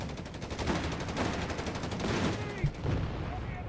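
Anti-tank gun shots bouncing off a Sherman tank in the strategy game Company of Heroes 3, heard as a dense, sustained stretch of gunfire bursts and booms at moderate volume under battle din.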